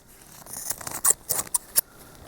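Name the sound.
scissors cutting crochet thread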